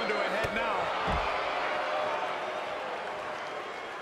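Wrestling arena crowd in the video game WWE 2K20 during an NXT match, a dense, steady roar of cheering that fills the whole stretch, with a couple of brief thuds early on.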